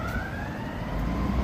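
Ambulance siren sounding through a busy Chicago city intersection, a steady rising tone heard at a moderate distance over constant traffic rumble, with no voices.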